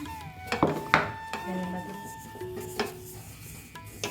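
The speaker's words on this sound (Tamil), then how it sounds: "சேர்த்துட்டு லைட்டாக கிண்டி விடுவோம்." Ground flour is stirred into hot ghee in a pan for Chettinad kummayam, giving soft scraping strokes and clinks of a spoon against the metal in an irregular rhythm, close by, while someone talks over it.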